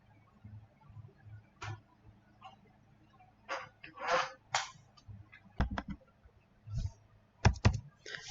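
Scattered clicks and taps on a computer keyboard as values are entered into an engine ECU setup, sparse and quiet in a still room, with faint low murmuring underneath.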